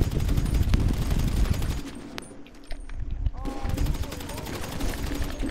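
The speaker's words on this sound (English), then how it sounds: "No, I'm using a machine gun, fuck that." Machine gun fire in GTA 5 Online rattles in rapid bursts, loud at first, then easing into a quieter gap before more shots resume, with voices mixed in.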